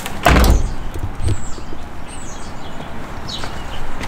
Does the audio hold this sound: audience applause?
no